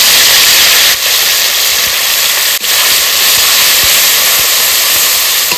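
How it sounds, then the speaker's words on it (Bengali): Dried red chillies and whole cumin seeds sizzle and hiss steadily in hot oil, a loud, close, continuous frying crackle with a couple of brief dips, no talk. "ফোড়ন দিয়ে দেবো শুকনো লঙ্কা, গোটা জিরে"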